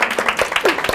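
An audience clapping together at a school parents' information session, a brief, dense patter of hands that is close and fairly loud.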